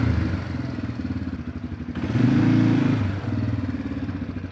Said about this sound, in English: Sawzall to the rescue, y'all.